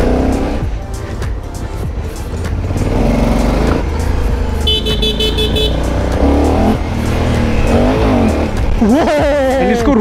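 A Honda Africa Twin motorcycle being ridden, its engine a continuous loud drone with shifting pitch as it pulls along an open stretch, with brief higher tonal sweeps near the end.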